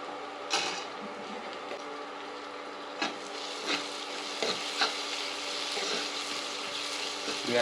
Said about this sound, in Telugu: ఆనియన్స్ అయితే ఇంకొంచెం వేగాలి, 1 నిమిషం వేపుదాం